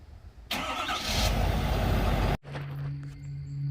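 A jet boat engine cold-starts, cranking and roaring to life loudly, then cuts to a lower steady idle with a constant hum.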